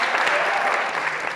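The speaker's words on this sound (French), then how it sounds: "première salve d'applaudissements" Studio audience at a French quiz show breaking into applause, a loud, thick burst of many hands clapping together without pause for just over a second.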